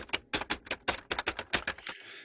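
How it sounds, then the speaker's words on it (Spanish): Typewriter typing from an ambient background-sound app: a rapid, irregular run of sharp mechanical key strikes, loud and close, ending in a brief bell-like ding and carriage rattle. "La mecanografía."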